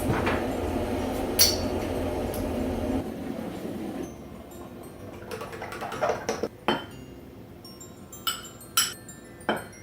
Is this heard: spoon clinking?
yes